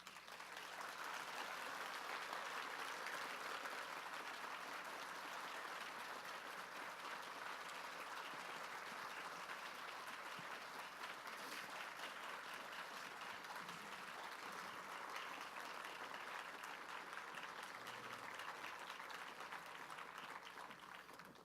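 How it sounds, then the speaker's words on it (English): A large audience at an author panel claps steadily and loudly as the writers come onto the stage, a dense wash of applause that holds evenly for the whole stretch with no talk over it. "please give them a healthy round of applause"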